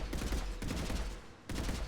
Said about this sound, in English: This is a light machine gun in every sense of the word.